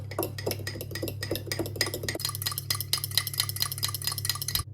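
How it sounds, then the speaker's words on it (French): Mustard is whisked into a vinaigrette in a rapid, even clinking rhythm of a whisk against a bowl, close and steady throughout, with a low hum underneath and no talking. "Il ne nous reste plus qu'à touiller jusqu'à avoir un mélange homogène."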